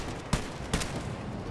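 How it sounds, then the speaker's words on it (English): Gunfire in the co-op shooter Wolfenstein: Youngblood, two sharp blasts about half a second apart, fairly loud over a steady background of game noise. "I'm right behind you shooting at it."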